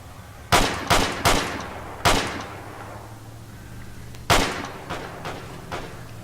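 Video-game gunfire in a match against a suspected cheater: sharp, loud shots with echoing tails, a quick burst of three, a lone shot, then a louder shot followed by a few fainter ones, with no talk.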